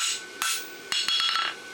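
Blacksmith's hammer striking a hot steel barshoe during forging of a lateral extension shoe, about five sharp ringing metallic blows, close and loud, an isolated strike followed by a quicker cluster of hits.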